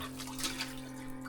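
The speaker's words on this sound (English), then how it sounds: "I've been paddling in the water just to get the algae off this top step where the sun is" Cold pond water sloshing and lapping as someone paddles to clear algae off a sunlit step, a steady close watery wash with soft splashes and a constant hum underneath.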